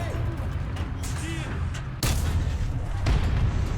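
Tank cannon in War Thunder, fired from an M4A1 (FL10), booming in sharp heavy blasts, one loud shot landing mid-clip and another just after, over a constant rumbling engine and battlefield din.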